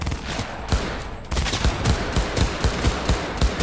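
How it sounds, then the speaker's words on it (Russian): Loud, rapid automatic gunfire from a weapon in the video game Cyberpunk 2077, a dense burst that stops briefly and then resumes as a string of distinct, closely spaced shots with no talking over it. "Это пушка."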